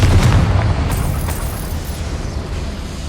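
A loud, deep blast from the Confringo fire spell in Hogwarts Legacy erupts up front, then rolls off into a long rumbling decay with no speech.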